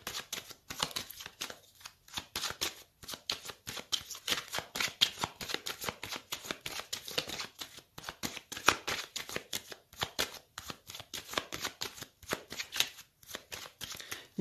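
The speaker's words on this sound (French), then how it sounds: "On va faire une coupe avec le tarot pour vous les Sagittaires." A tarot card deck is cut and shuffled by hand, close and crisp, with repeated riffling bursts and soft slaps in an uneven rhythm, no voices.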